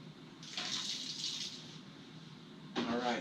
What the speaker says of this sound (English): All right, adding a little bit of water here.